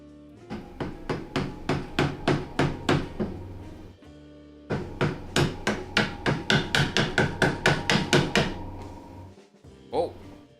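A chisel is struck into wood with a hammer during hand-tool shelf-making, giving two close runs of about a dozen sharp, evenly spaced blows separated by a short pause, then a final lone knock.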